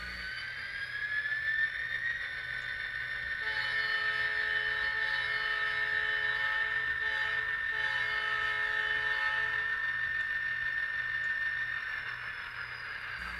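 An Atlas Rio Grande GP30 N scale model locomotive's sound decoder plays a sustained diesel engine drone with a long train horn blast across the middle, loud and steady, with no talking.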